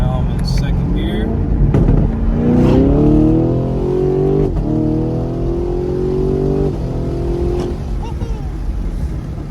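A 2022 Camaro 2SS 1LE with a V8 pulls hard through the gears, the engine note climbing with each shift, a brief dip and pop between gears, and another car passing nearby.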